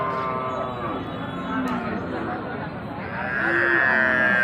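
Bull calves of Indian and Sahiwal breeds moo in a drawn-out, wavering way at a busy cattle market, fairly close, with a second call near the end and murmuring voices in the background.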